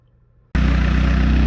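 SOHC turbocharged engine running rough on a dyno, bursting in after a half second of silence and holding a loud, steady, unbroken drone with no voices.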